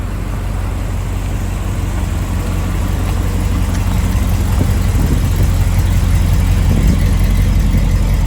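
A 1940 Ford pickup street rod's engine idles steadily nearby with a deep low rumble, constant and unbroken throughout, no voices.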